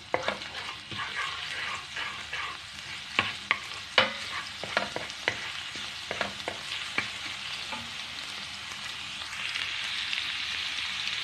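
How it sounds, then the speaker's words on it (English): Garlic fries in a pan for pancit guisado, giving a steady, moderately quiet sizzle broken by sharp clinks and scrapes of stirring, with no one talking. "Garlic. Fry until golden brown."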